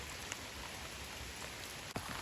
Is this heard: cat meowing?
no